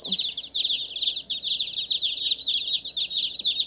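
Baby chicks just out of a shipping box peep continuously, a dense, high-pitched chorus of rapid overlapping chirps, close and fairly loud with no talking.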